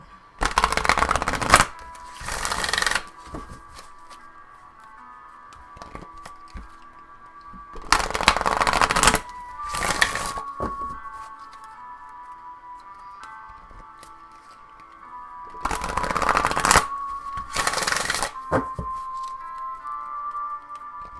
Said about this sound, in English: while I'm focusing on the cards and shuffling them